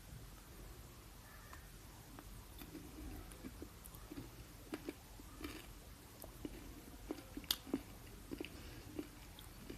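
Someone chews a Galaxy Honeycomb Crunch chocolate bar, producing a steady run of soft, close crunches and small clicks with irregular rhythm over a low rumbling background, without talk.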